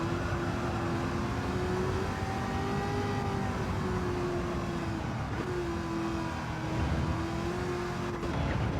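A race car in Gran Turismo 7 slides over a crest, its engine holding a steady, droning whine with slight pitch dips and rises, loud and alone without talk.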